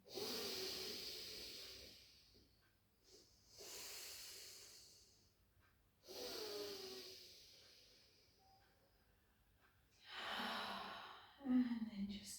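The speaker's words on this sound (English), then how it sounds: "just take some lovely deep breaths in" Slow, deep breaths drawn in and let out during a short post-run stretching routine, heard as several long, soft airy rushes with quiet gaps between them, close and fairly faint.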